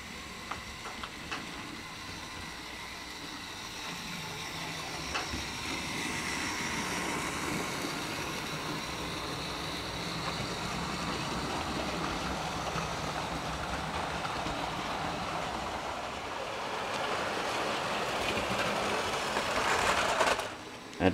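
A toy train runs steadily around its track, a continuous close whirring and rattling hum that grows slightly louder toward the end, with a faint voice at times.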